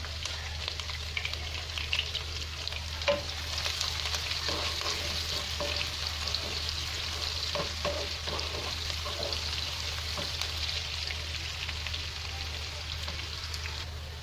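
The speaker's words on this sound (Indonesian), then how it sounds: "Lada tumis sampai warna kecoklatan." Pepper stir-fries in oil in a pan until browned, with a steady close sizzle and occasional soft scrapes of stirring running throughout.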